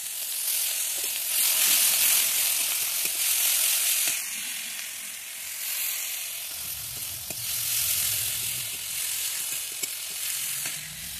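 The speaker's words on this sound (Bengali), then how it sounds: "এটা মধ্যে আছে পেঁয়াজ, আদা, রসুন, কাঁচা লঙ্কা, সব একসাথে দিচ্ছি।" Onion, ginger, garlic and green chili hit hot oil with toasted cumin in a pan for a meat curry, giving a steady, loud, close sizzle that swells and eases with occasional stirring and no talk.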